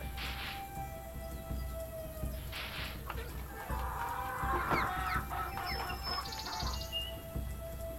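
A chicken clucks in a farming video game, with a few soft clucks and chirps layered over quiet game ambience and short chiming effects.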